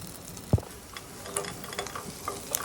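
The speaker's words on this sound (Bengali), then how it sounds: "তা আঁচটা কমিয়ে আলুটা ভাজবেন" Potatoes fry in mustard oil over low heat for a biryani, a soft, steady sizzle broken by a sharp knock of a spatula and light stirring scrapes.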